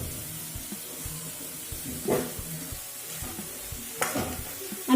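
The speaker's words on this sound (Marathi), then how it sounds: "आपला कांदा चांगला परतून झालेला आहे" Chopped onion with bay leaf sizzles steadily in a hot pan while it is stirred, with soft scraping and occasional louder bursts of frying, close and fairly quiet with no talking.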